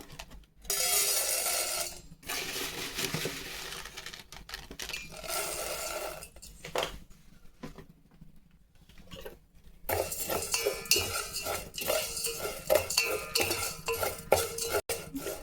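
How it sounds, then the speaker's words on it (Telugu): Light sizzling of vermicelli frying in ghee in a pan, with intermittent scraping and clinking of a utensil, bursts separated by brief quiet pauses. "అదే గిన్నెలో కొంచెంగా సేమే వేసి ఫ్రై చేసుకుంటాము"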